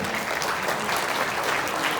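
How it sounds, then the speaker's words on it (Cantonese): Wedding guests clap together in a dense, steady round of applause that stays even and fairly loud for its whole length. "再次掌聲恭喜晒！"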